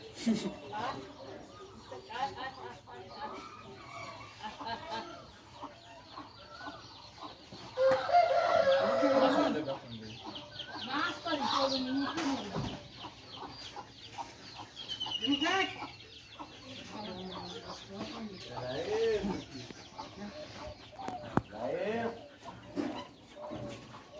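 Chickens cluck and a rooster crows intermittently around a yard, with people talking nearby over the birds.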